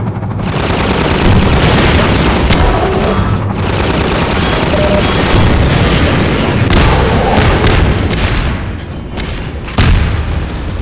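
Rocket explosions in the Half-Life 2 video game, a loud, continuous stretch of heavy booming blasts and rumbling impacts lasting throughout, with a sharp extra blast near the end.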